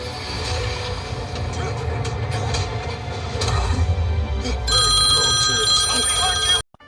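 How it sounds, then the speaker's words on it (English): A phone rings inside a 2022 VW Polo, a steady electronic ringtone coming in over the car's running noise and background media for about two seconds before cutting off abruptly. "My phone rang."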